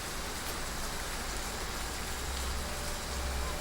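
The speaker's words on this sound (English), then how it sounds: "Rain! Honest to goodness, rain!" Steady rain pours in the video game Triangle Strategy, a continuous dense hiss with low rumble underneath, even and unbroken throughout with no voices.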